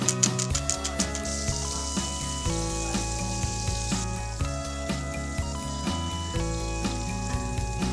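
Boneless duck breast sizzles in a pan over low heat as its fat layer melts, a steady close crackling fry that continues alongside background music.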